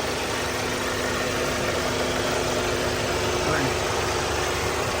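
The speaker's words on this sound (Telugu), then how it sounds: "వెహికల్ రన్నింగ్లోనే ఉందండి." A 2022 Kia Sonet engine idles with a constant low rumble and droning hum, loud and close, unchanging throughout.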